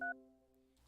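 Touch-tone telephone dialing, a single short DTMF key beep at the start followed by a faint lingering tone, close and alone.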